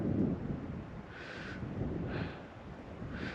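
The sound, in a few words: wind blowing outdoors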